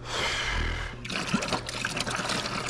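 A vehicle in a workshop drains water and antifreeze, giving a continuous close dribble and splash of liquid that grows briefly louder near the start, then carries on as an irregular trickle.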